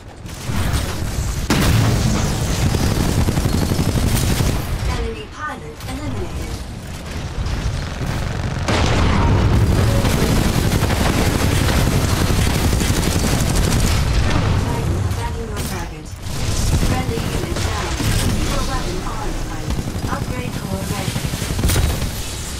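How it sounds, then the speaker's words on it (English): A friendly Titan attacking in a Titanfall 2 Attrition match: continuous heavy gunfire, booming explosions and mechanical clatter at loud, steady intensity, with a few short gaps between barrages. "Friendly Titan attacking your target"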